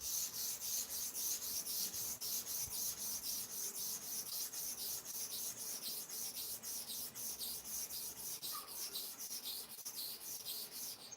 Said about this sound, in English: That's 20 times to sharpen the first side to and fro.